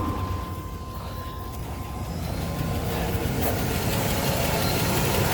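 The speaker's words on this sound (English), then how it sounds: "Give the old Chevy a start here." Old Chevy engine idling, a low, steady rumbling drone that swells slightly toward the end, heard alone without voices.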